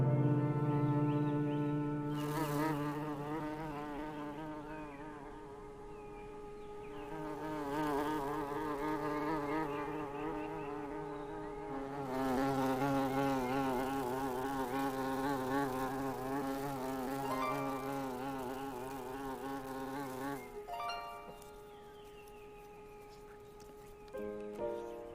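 A scout bee's buzzing drones steadily for about twenty seconds in wavering tonal swells, then drops away near the end and leaves quieter sound.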